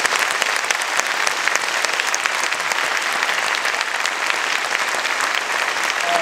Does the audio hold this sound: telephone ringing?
no